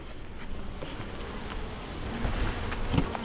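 Honeybees buzz steadily around backyard beehives, a continuous close hum with individual bees flying past the microphone.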